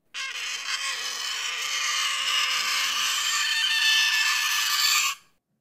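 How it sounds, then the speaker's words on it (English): Sharp chef's knife tip scraping the inside of an oven, a harsh, steady, high-pitched metallic screech held for about five seconds, then cut off abruptly, alone with no talk. "That's the sound of someone scraping the inside of an oven with the tip of a very sharp chef's knife."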